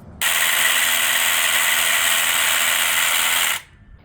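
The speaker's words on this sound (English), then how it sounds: "So we're just using the standard ABU 66 from Simpson with 5/8 inch Titan screw anchors. So just drill those in" A power drill drives 5/8-inch Titan screw anchors into place for Simpson ABU66 post bases on a historic 1860s cottage porch rebuild, a loud steady whine running for about three and a half seconds before cutting off.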